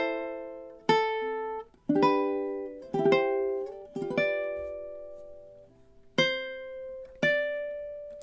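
Ukulele picks out measures 11 and 12 of God Rest Ye Merry Gentlemen, a slow line of single plucked notes and small chords, each attack ringing and decaying, with a couple of longer held notes, played alone with no talking.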